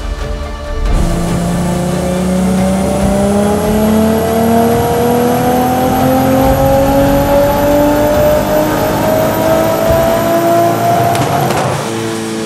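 A 1200 hp Volkswagen Golf running on ethanol, with big turbos, pulls hard on a dyno: a loud, close engine climbing steadily in pitch through one long full-throttle run, then cutting off abruptly near the end.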